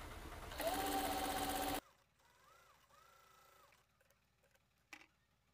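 A sewing machine stitching the edges of a bra runs in a short, loud burst of about a second, then stops. Faint ticking and handling noises follow in the quiet.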